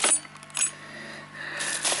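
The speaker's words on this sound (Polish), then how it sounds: "kluczyki" Keys for a Pezal petrol generator jingle and clink as they are handled during unboxing, a few light metallic rattles close by in quick bursts.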